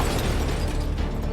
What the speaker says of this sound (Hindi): तभी विशाल का गाड़ी से बैलेंस बिगड़ा और गाड़ी सामने खड़े ट्रक से जा टकराई